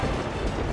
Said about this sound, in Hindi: ये ध्वनि उस अमृत कोषागार के सुरक्षा कवच के टूटने की ध्वनि है।